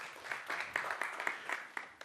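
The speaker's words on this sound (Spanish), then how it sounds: "Los recibimos con un aplauso y los dejamos acá." Applause from a conference audience welcoming speakers, fairly faint and thin, with a handful of distinct claps standing out in an uneven patter over two seconds.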